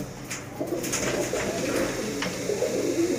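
Rooftop pigeons coo together in a steady, continuous soft murmur, with overlapping low calls and faint rustling throughout; no one speaks.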